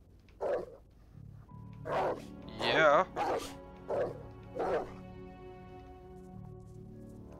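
A wolf character in the game Werewolf: The Apocalypse – Earthblood barks and yips in several short bursts with a whimpering note, close and clear, while someone briefly speaks alongside.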